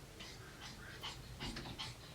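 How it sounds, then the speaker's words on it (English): An indoor pet dog pants in quick, rhythmic breathy huffs, close by and steady, with a slight whiny edge, no talking. "And that is my dog."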